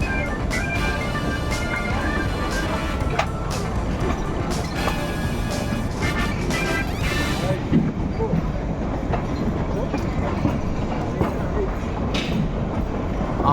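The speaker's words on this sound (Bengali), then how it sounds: "আমাদের ট্রেন সিমলা ঢুকছে আর পাশেই দাঁড়িয়ে আছে সিমলা থেকে কালকা যাওয়ার টয় ট্রেনটা" The Kalka–Shimla toy train rolls into Shimla station, wheels clacking rhythmically over rail joints with a loud, close rattle of carriages and a brief metallic squeal as it slows.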